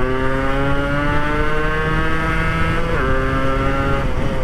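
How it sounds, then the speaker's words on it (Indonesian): Yamaha RX-King two-stroke motorcycle engine revving, a buzzy, raspy exhaust note holding steady and rising in pitch as it accelerates, loud and close throughout with no talking. "Dan kenceng banget nih motor."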